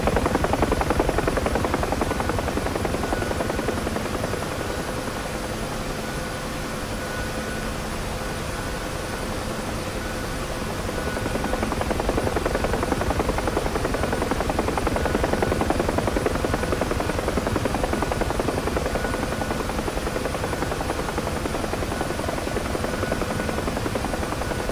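A UH-1H Huey helicopter in the flight simulator DCS drones steadily from the cockpit, a loud unbroken rotor and turbine roar with a broad rushing wash that dips slightly midway, with no talk over it.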